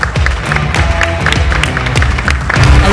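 Audience applause welcoming a presenter to the stage at a health and biomedical startup pitch final, a steady dense patter of many hands clapping throughout with a few sharper claps standing out.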